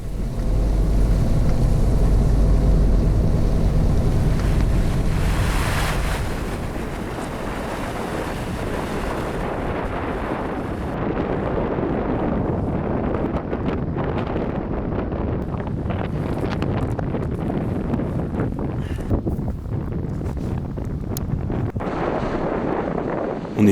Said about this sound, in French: il fait froid, il y a du vent, il pleut.